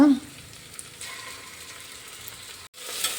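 Garlic paste frying in a pan for mushroom biryani, a steady soft sizzle held close throughout, with a brief dropout near the end.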